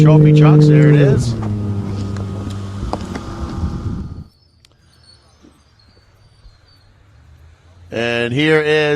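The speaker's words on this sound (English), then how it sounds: "Now I hear a heavier truck coming through, another one of our trophy trucks." A heavy trophy truck roars past at the NORRA 500 off-road race, its loud engine note sweeping by and fading out, with a steady low rumble left before another engine swells back in near the end.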